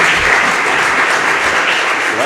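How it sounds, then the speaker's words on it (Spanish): Lecture audience applauding the speaker, a loud, dense wash of clapping from a packed hall, continuous and even across the whole stretch with some voices mixed in. "pidiendo un aplauso a todos ustedes para que venga otra vez más"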